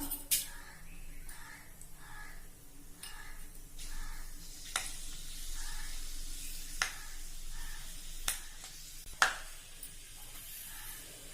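Faint, steady sizzle of fenugreek seeds frying in hot oil, with a few sharp clinks of a utensil against the pan over a low background hiss.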